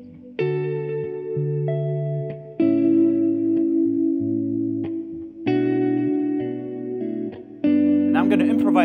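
An electric guitar run through distortion and chorus effects plays sustained fifths in a soloing lesson, a sequence of held two-note chords changing roughly every second or two, loud and ringing with slight echo.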